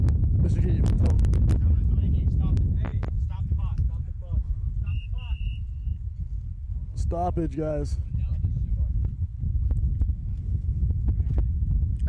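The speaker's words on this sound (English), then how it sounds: "it is just getting so windy that we can't even." Strong wind gusting outdoors at a ball game, a steady low rumble of wind buffeting the microphone throughout, with people talking and shouting over it.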